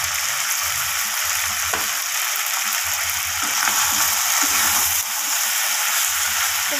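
Red chilli powder and cumin powder sizzle steadily in hot oil as masala for a chicken-feet and potato curry, with a continuous bright frying hiss and soft stirring scrapes underneath.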